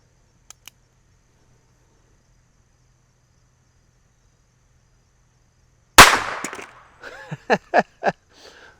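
A tiny revolver fires a single sharp, loud shot at a deck of cards from a few feet away. The crack comes after near silence and two faint clicks, followed by a brief rattle and several quick clattering knocks.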